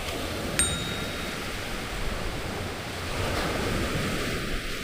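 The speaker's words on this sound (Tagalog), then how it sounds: "Maalon pag hapon na kayo dito." Ocean surf breaking on a beach at San Antonio, Zambales, a continuous wash of waves mixed with wind noise across the microphone, fairly soft and steady with no voices.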